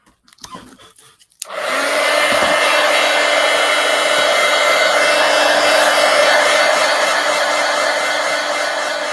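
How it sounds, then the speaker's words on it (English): A heat gun starts up after a few soft handling clicks, then blows a loud, steady, close whoosh as it dries acrylic gouache paint on sketchbook pages, its high airflow roar holding without a break. "I'm wondering if I probably should get out my heat gun because I'm going to flip pages"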